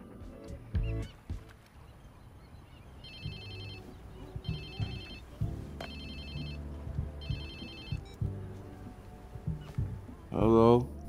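Phone ringtone from the video game Watch Dogs 2: repeating electronic ring bursts, four evenly spaced, play over game music and a speaking voice, ending in a louder rising tone at the close.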